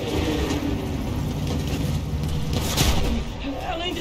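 A tank's heavy engine rumbles steadily at low pitch in Battlefield 1, with a sharp boom near the end and background battle noise.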